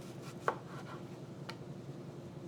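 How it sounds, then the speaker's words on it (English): A knife cuts thin slices through an onion on a cutting board for pickling, with a few soft, sparse chops, one sharper tap, and faint background hiss. "we're going to thinly slice it"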